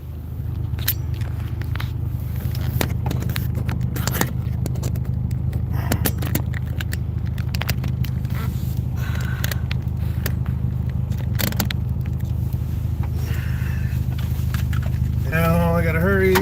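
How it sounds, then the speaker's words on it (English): Steady low engine drone and road rumble fill the cabin of a car whose gear shifter has lost its insulation, with scattered clicks and rattles throughout and a voice speaking over it near the end. "Now it's extra noisy because I no longer have the insulation for my shifter."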